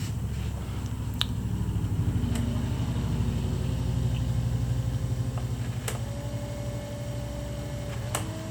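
A small motor runs on a DIY motorised kayak, a low steady hum with a faint whine, heard close and continuous along with a few sharp clicks and taps, no talking.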